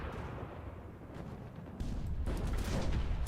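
Artillery fire in the World War II shooter Enlisted, a dull rumbling barrage of distant booms that grows louder and denser partway through, with no voices over it.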